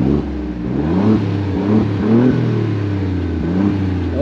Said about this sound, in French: Est-ce que tu peux nous faire la Dolce Vita avec la sonorité titane de l'échappement Akrapovic?